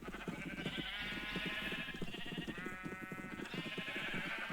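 Sheep in a video game bleat over and over in a dense, overlapping chorus, a steady flock clamor with no talk over it.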